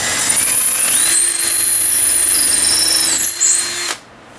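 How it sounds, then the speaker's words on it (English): A power drill whines steadily at high speed for several seconds, close and loud, drilling screw holes into new house shutters, then winds down and stops. "we're going to drill holes"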